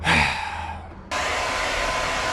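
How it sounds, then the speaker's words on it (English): A hair dryer roars steadily close by, briefly dipping before switching to a higher, louder setting that holds to the end. "Probably one of the last times I'll ever use a hairdryer."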